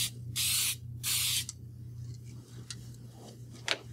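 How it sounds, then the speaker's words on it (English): Two long, loud bursts of aerosol spray hiss on a broken edge being repaired, one after another, followed by quieter handling noises and a steady low hum. "Spray the other side."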